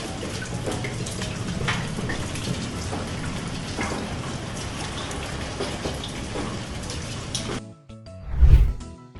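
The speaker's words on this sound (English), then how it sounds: "Water falls from the sky as rain or snow." Steady rain falls in a dense, even hiss for most of the clip, then stops abruptly and gives way to a brief low rumble near the end.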